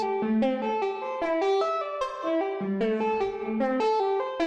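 Bright synthesizer tones step through a melodic sequence of sustained, harmonically rich notes, with a reverberant wash blending one note into the next.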